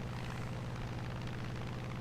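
A Spitfire's engine roars as a dense, continuous drone in the War Thunder game, loud and steady without any talk.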